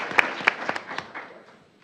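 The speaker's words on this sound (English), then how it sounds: "Round of applause." A small audience at a school board meeting claps for a senior of the month, a few sharp claps standing out at first before the scattered clapping thins and fades within two seconds.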